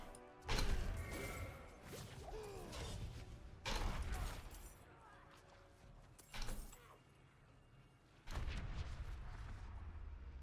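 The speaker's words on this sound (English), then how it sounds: "These explosions still do some damage." Explosions in Diablo 4 while playing a HotA Barbarian, several loud, sharp crashing bursts a few seconds apart, each trailing off into game noise, with no talk.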